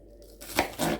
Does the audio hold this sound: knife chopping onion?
yes